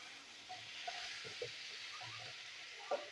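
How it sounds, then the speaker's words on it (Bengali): Flat beans and eggplant frying in a pan with salt and turmeric, a faint steady sizzle with a few soft stirring knocks, no talk. "শিম বেগুনটা ভেজে নিতে হবে,"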